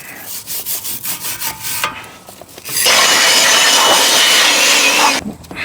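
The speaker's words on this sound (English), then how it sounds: "give everything a scrub" Car parts from a BMW X5 repair are scrubbed clean, first with a series of short rhythmic brushing strokes, then a sustained loud scrubbing burst lasting a couple of seconds, close up.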